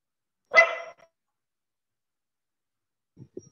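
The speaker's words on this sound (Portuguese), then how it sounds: "Eu ia abrir meu som, mas a cachorra começou a latir." A dog in a home gives one sharp, fairly close bark, followed after a pause by a couple of faint short yips, with quiet in between.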